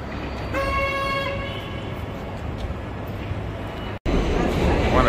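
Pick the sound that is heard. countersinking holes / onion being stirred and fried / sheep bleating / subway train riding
subway train riding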